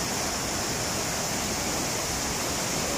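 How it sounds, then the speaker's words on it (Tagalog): A waterfall, Ditumabo Mother Falls in Aurora Province, Philippines, roars without pause, a dense, constant rushing of water filling the air, loud and close, with no voices. "lumalakas yung dagundong na naririnig natin eh. Lagaslas ng tubig ba?"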